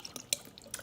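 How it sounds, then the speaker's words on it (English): Regular Kikkoman soy sauce poured over tofu for a stir fry, heard as a few faint, brief liquid drips and splashes spaced across under a second, with no talking. "I just have some regular Kikkoman soy sauce, so I'm just gonna pour it in."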